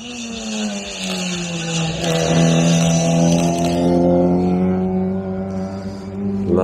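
Cars, including a rotary-engined Mazda RX-7, race past at speed, their loud engine whines rising and falling as several vehicles sweep by close in quick succession.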